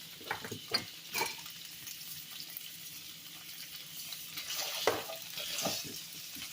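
A lentil soup base with garlic fries quietly in a pot, a soft continuous sizzle with scattered scraping stirs and clinks, fairly faint and close.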